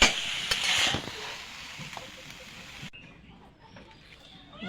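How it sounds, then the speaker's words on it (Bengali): Cooked spinach being stirred in a hot pan gives a soft sizzle and scraping for about three seconds, then drops to near silence. "নাড়িয়ে দেবো।"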